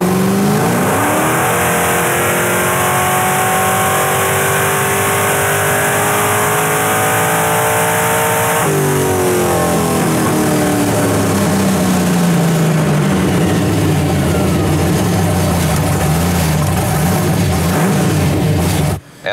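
A carbureted Pontiac Firebird barn-find engine revs hard up toward the shift light, its pitch climbing steadily, then drops back and winds up again, loud and close throughout with no talking.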